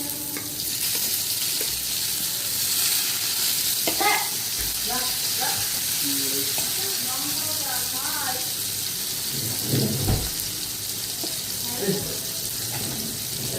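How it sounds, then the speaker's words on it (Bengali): Garlic, chopped ginger and chopped tomato fry in hot oil for a Chicken 66 dish, giving a steady, close sizzle with occasional stirring scrapes and a faint murmur of a voice in places. "আমি প্রথমে রসুন ফোড়ন দিচ্ছি, আদা কুচি দিচ্ছি, আদাগুলো কুচি করা, এখানে টমেটো কুচি দিচ্ছি"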